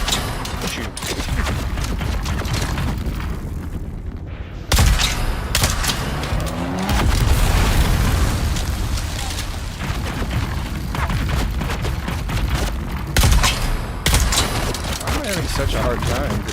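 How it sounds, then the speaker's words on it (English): In Dune Awakening, gunfire hits the player's own buggy: repeated loud shots and booming impacts over a rumbling vehicle, with a person talking throughout. "I'm just shooting my own buggy at this point."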